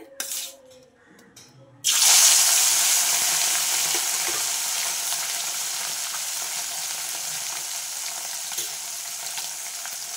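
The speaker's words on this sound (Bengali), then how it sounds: "আমি হালকা করে একটু ভেজে নেব মাছগুলো।" Small puti fish drop into hot oil in a kadai, and after a quiet moment a loud, close sizzle bursts out, then holds as a dense, even crackle.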